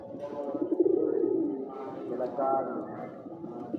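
A Sirazi pigeon coos in low, rolling phrases close by, with soft voices or background murmur blending underneath.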